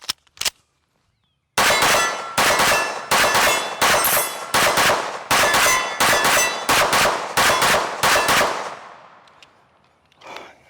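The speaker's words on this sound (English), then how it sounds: "Now we're gonna shoot a few more rounds through it and see how it does." A Springfield Armory DS Prodigy Comp compensated pistol fires around ten sharp, loud shots in a fast, steady rhythm, after a couple of brief clicks, with the last report ringing out into quiet.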